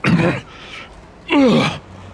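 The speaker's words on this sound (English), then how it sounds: "Gags. Coughs." A harsh throaty gag followed by a strained cough, two separate bursts close up with a short gap between.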